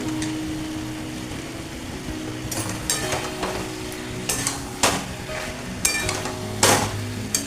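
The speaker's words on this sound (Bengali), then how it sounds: "এবারে আমি আলুগুলো দিয়ে দিচ্ছি, ভেজে রাখা আলু।" Fried potatoes tipped into a sizzling chicken curry with tomato, then stirred, giving a steady close sizzle broken by several sharp scraping and clattering strokes of a utensil against the pot.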